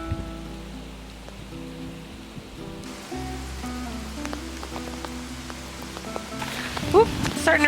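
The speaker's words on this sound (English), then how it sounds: "Oop, starting to rain harder." Rain pours steadily onto outdoor surfaces at a house under construction, a dense hiss with scattered nearby drops that grows heavier and louder toward the end.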